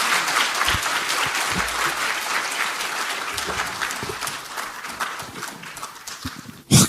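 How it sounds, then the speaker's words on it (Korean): A political party's new-member academy audience gives loud, sustained applause that fills the hall, dense and continuous, then swells sharply in a final burst at the end. "큰 박수 부탁드립니다."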